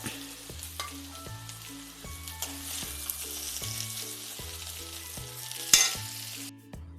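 Eggplant roast fries in a pan with a continuous sizzle and occasional stirring. A sharper clink comes near the end, all beneath background music.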